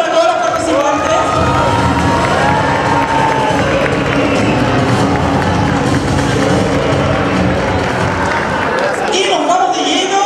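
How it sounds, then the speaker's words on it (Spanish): Loud, dense crowd cheering and shouting with clapping fills the whole stretch, a continuous roar from an audience applauding the contestants of a drag queen competition show, with voices rising throughout. "Fuerte el aplauso para todas las participantes."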